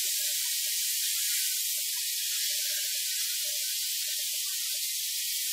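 Kangaroo meat sizzles in a very hot pan on an EverythingNice stove, a dense, steady hiss throughout with faint pops breaking through.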